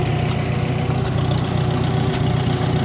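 An old tractor engine idles with a steady, loud, low rumble and even chugging pulse, close by and uninterrupted.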